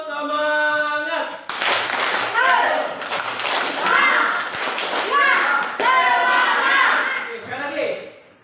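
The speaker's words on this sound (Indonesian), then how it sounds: "melakukan yang namanya tepuk semangat supaya kita tambah bersemangat." An Indonesian classroom of children performs a rhythmic clap-and-chant cheer, loud and close, with many young voices shouting together over bursts of clapping after a brief spoken lead-in.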